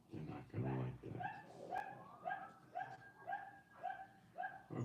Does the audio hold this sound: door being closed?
no